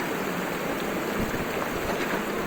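A swollen stream rushes steadily past a washed-out river crossing in Nepal, a dense, continuous roar of flowing water close by, with no voices.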